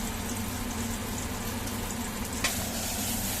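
Food fries in hot oil in a pan with a loud, steady, close sizzle throughout, and a single brief stirring scrape cuts through near the end.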